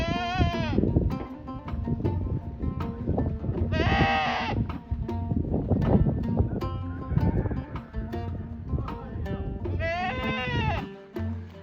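Sheep and goats bleat repeatedly nearby in a Kabyle village in Algeria, several loud calls spaced over a background of shuffling and farmyard noise.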